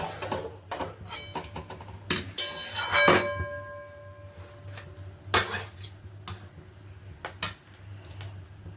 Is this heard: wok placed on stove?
yes